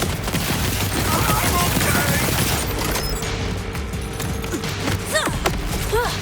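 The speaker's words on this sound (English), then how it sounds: "Let's just rocket this guy." Rocket launcher fire and explosions in the Borderlands 4 video game, a dense, loud, continuous barrage of blasts and rapid gunfire with mechanical clatter, no pauses, and a voice speaking faintly beneath.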